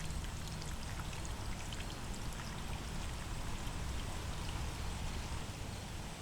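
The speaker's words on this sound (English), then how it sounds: "The little fountain." A small garden fountain splashes steadily outdoors, a dense, even wash of falling water with no breaks, moderately loud and steady without any talking.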